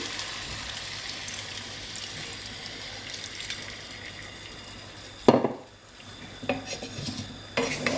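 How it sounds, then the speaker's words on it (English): Water poured over the back of a spoon into a pan of simmering vegetable curry makes a soft sizzling and stirring hiss, broken by a sharp splash and a few spoon clinks near the end. "So I like to add water to the sides like this, put the water over the back of the spoon."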